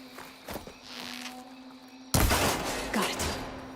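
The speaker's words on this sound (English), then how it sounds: "Need to shoot off the lock." A single sharp gunshot fired at a lock in a shooter video game, a loud sudden crack after quieter footsteps and shuffling, followed by a rattling clatter and ringing tail.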